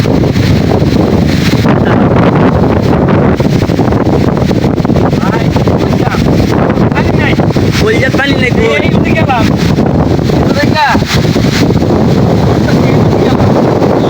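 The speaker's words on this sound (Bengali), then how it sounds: "বৃষ্টি নাই কিন্তু বাতাস আছে অসংখ্য বাতাস রে বাবা" Strong gusting wind batters the microphone in an open outdoor spot, a loud continuous roar with no letup, and a few faint chirps surface under it.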